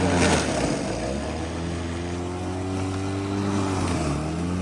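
A lawn mower, electric by the sound, bogs down as it churns through dense patches of nutsedge, its steady motor drone shifting pitch under load and dipping lower near the end, close and continuous with no talking.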